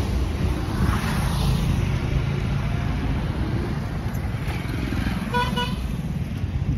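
On a roadside, a passing motorcycle engine rumbles loudly amid traffic while a horn sounds in short repeated toots near the end.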